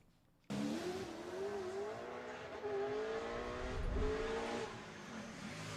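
A Holden Commodore V8 Supercar race engine screams at high revs, a steady loud whine with slight pitch shifts as it holds and eases the throttle, heard from a distance.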